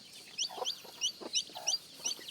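A few chickens give soft, repeated clucks at a fairly even pace, quiet and close, with no talking over them.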